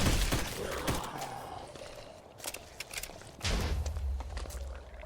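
Gunfire in the Minecraft zombie-outbreak game, with a rapid cluster of sharp shots at the start, scattered cracks in the middle, and a louder rumbling burst near the end.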